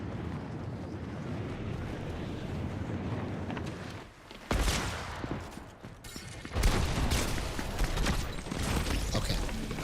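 Hunting rifle fire in a shooter video game, a few loud sharp shots and bursts breaking through a steady windy rumble, close and heavy with no talking.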